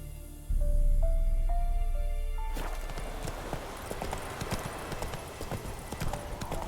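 Roach the horse from The Witcher 3 game galloping with fast, rhythmic hoof clip-clops close by over a brief musical sting and low rumble, with no voices.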